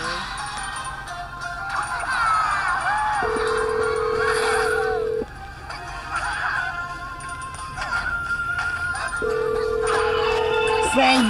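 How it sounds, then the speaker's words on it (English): A Talking Tom Hero Dash phone ringtone plays a repeating electronic melody with steady sustained tones in a loop, loud and close throughout. "Same ringtone."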